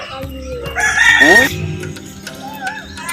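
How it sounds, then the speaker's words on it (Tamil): A free-range native rooster crows once loudly and close by, its rising, harmonic call standing out clearly over faint background voices and clucking. "நாட்டு சேவல்"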